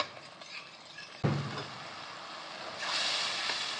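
Spices with a bay leaf and a dried red chilli fry in a pan for stuffed aloo dum, a sudden splash and hiss as a little water goes in, then a steady brighter sizzle, close and alone.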